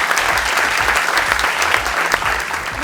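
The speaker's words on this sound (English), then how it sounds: "Let's give them an applause." Loud, dense applause from a studio audience for a school quiz team on a televised quiz show, a sustained even roar of clapping.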